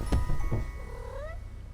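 A black cat in a video game gives a short meow with a rising, drawn-out call after a couple of soft thumps, close and fairly clear, with no talking.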